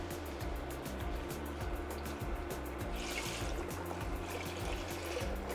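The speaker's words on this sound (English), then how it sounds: "So now we're going to add our chicken broth. Just pour everything in." Chicken broth pours steadily into a pot of meatball soup with garlic, Italian seasoning and tomato paste, a soft continuous liquid splashing and trickling sound heard close and alone.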